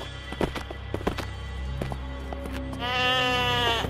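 A caged goat in the Sker Ritual video game bleats with a wavering, drawn-out cry near the end, after a few scattered knocks and clip-clop-like thuds.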